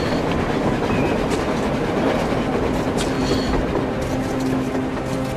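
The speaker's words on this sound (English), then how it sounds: "A damn train on the surface!" A train in the Metro Exodus game rumbles steadily along rails on the surface, a continuous loud clatter with faint metallic squeals throughout and no talk.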